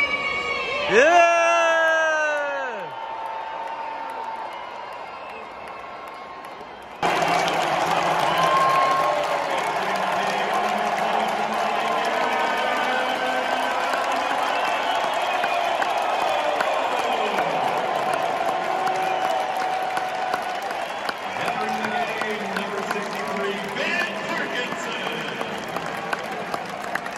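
Sellout stadium crowd at a Chelsea vs Newcastle match roars with sustained cheering, whoops and applause, loud and dense, after an announcer's voice over the PA opens the clip.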